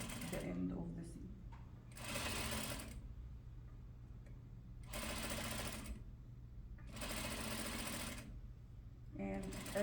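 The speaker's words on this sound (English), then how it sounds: "I will stitch a couple of stitches, back stitch, and then I'll continue until I get to the end of the seam." A sewing machine runs in three or four loud bursts, stitching and back-stitching along a fabric seam for an inseam pocket, with quiet pauses between the runs.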